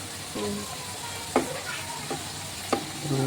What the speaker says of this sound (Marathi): मम्मी फ्राय करते तेलामध्ये.